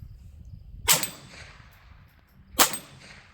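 Two well-spaced shots from an MP5 .22LR rifle at a target, each a bright metallic clang that rings briefly over a quiet background.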